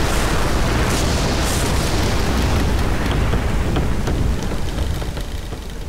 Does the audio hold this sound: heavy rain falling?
yes